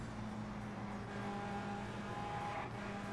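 A race car engine from the video game Indianapolis 500 Evolution, in a 1965 Indianapolis 500 race, holds a steady high-revving drone with a faint rising whine, moderately loud and continuous with no voices.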